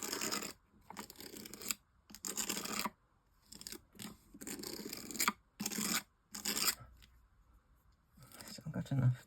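Gritty, glittery paste scraped and spread with an implement through a mask, short raspy strokes repeated in bursts with brief pauses between, close and fairly loud.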